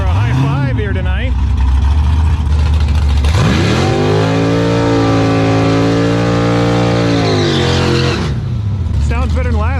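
A COPO Camaro drag car engine at the strip roars loudly, dropping briefly, then revving hard and holding a high, steady pitch before falling away, with crowd noise and voices underneath.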